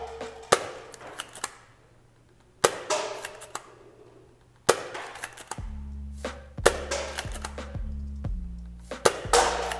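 A ZWQ S200 Fire Rat foam dart blaster, a slide-lock pistol, fires repeatedly at cups: sharp snapping shots spaced a second or two apart, each trailed by clattering rattles and faint rising whines in between.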